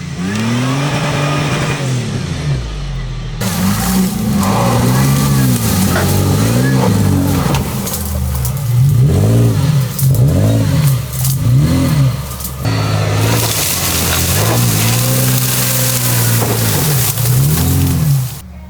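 A supercharged Toyota FJ with about 350 horsepower and 35-inch tires, on a rally over soft peat ground, its engine revving hard in repeated rising and falling surges, loud and close throughout.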